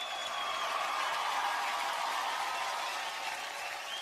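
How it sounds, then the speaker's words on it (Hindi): Steady applause from a large audience fills an awards-show hall, a continuous even wash of clapping at moderate level with no voices over it. "तो आज की शाम की शुरुआत करते हैं आपकी जोरदार तालियों के साथ।"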